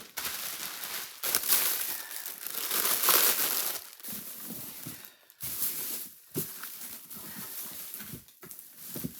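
Crinkling plastic bag, irregular rustles and crunches close up, with brief pauses between bursts of handling.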